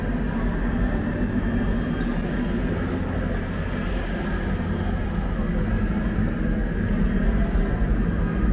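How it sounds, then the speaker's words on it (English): A steady, loud roar from a UC San Diego rocket team's rocket at liftoff, broad and continuous without letting up, with voices faintly mixed in. "We have liftoff."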